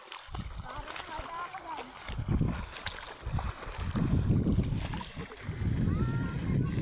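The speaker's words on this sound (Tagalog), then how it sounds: "Wow, ang lakas na ng alon." Sea waves wash and splash at a beach in Sorsogon in uneven surges, near and fairly soft, while people talk over them.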